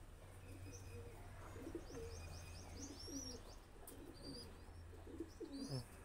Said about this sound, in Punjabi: ਸਾਡੇ ਪਿੰਡ ਦਾ ਮਸ਼ਹੂਰ ਕਬੂਤਰ